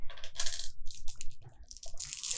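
Dice clattering and rattling on a table during a tabletop Dungeons & Dragons game, a burst of sharp clicky tumbles and bounces close up, with no talk over them.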